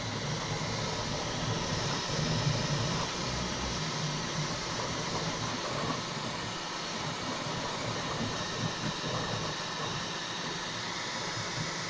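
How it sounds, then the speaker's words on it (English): Bambu Lab P1S 3D printer running with its door open, its fans giving a steady, loud broadband whoosh and hiss that continues evenly throughout with no talking. "you can instantly hear the fans are a lot louder"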